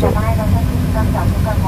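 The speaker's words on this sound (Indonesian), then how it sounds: "Alis na yung plano, guys." A low, steady aircraft engine hum rumbles from inside a passenger plane at an airport, near jet fighters, while someone talks over it.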